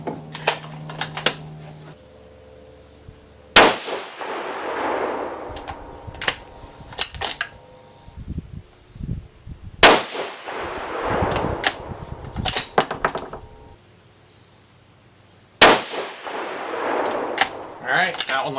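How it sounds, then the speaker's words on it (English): Three sharp, loud 6.5 Creedmoor rifle shots firing 120gr Speer Gold Dot handloads, spaced about six seconds apart, each with a ringing outdoor echo, and quiet gaps between them. "we've loaded up the rest of these, let's go ahead and shoot them."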